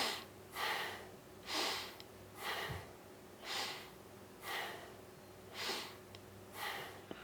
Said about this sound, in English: I'm breathing in, my jaw is coming up, my jaw is coming down, I'm breathing out.